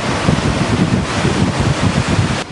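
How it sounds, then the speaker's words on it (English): Strong wind buffets the microphone on a Florida beach near Panama City, a steady roar over low surf rumble filling the whole stretch without pause. "Still windy."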